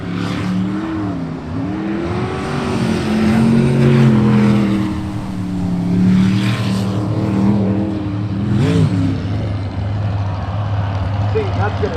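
A sprint boat's engine roars loudly throughout a river sprint race, its pitch rising and falling as it tears past, with commentators talking over the steady drone.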